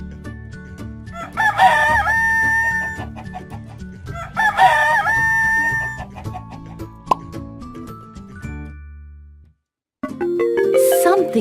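A rooster crows twice in loud, ringing cock-a-doodle-doos over bouncy background music, followed by a short pause and a bright musical flourish.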